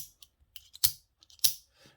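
A Bastion Gear bolt-action pen is worked close up, giving a sequence of sharp metallic clicks and snaps, with two louder clacks as the bolt slides, set apart by brief quiet gaps.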